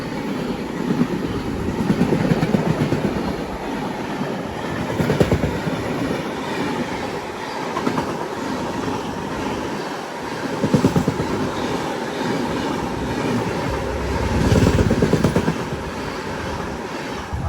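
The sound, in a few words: Pune–Kanyakumari Express train overtaking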